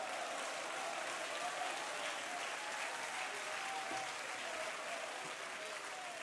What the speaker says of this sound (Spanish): Dale palmas, dale palmas.